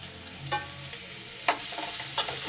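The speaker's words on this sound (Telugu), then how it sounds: "ఆయిల్లో మంచిగా ఫ్రై అవ్వనిద్దాం. ఈ విధంగా ఫ్రై చేసుకోవాలి." Carrot, cabbage, onions and green chillies frying in oil in a pan, a steady soft sizzle with a few brief scrapes of stirring, fairly quiet and without voices.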